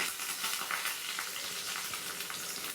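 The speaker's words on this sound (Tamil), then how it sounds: "உளுத்தம்பருப்பு போடுறோங்க." Urad dal and mustard seeds frying in hot oil for a raw banana podimas, a continuous soft crackling sizzle that stays fairly quiet and even throughout.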